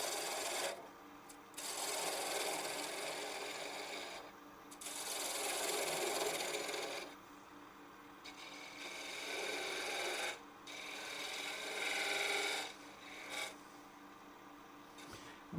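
Woodturning gouge cutting into wood on a lathe while making a threaded acorn box, a raspy scraping hiss in repeated bursts of a few seconds separated by short pauses, fairly faint.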